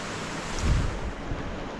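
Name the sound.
heavy rain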